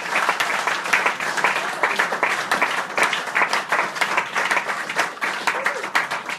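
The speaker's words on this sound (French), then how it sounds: "Est-ce que tu peux encore acclamer très fort pour la gloire du Seigneur?" A church congregation applauds loudly and steadily in a dense wash of clapping hands, continuous for several seconds with rhythmic surges.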